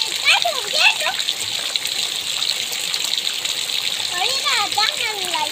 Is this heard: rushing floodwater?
yes